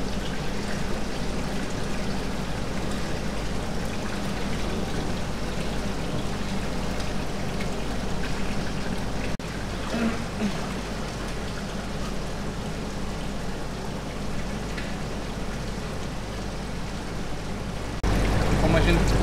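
Steady, continuous flow of water in a saltwater tank cleaned with activated carbon, a soft even rushing that runs unbroken with no talk.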